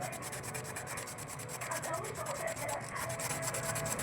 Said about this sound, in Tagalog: Tapos lilihain natin yung shafting